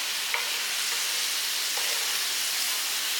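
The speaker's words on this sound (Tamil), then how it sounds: "காய் வேகிற அளவுக்கு நல்லா வதக்கணும்" Citron pieces sauté with rock salt in a pan, giving a close, continuous broadband sizzle and hiss with faint stirring scrapes.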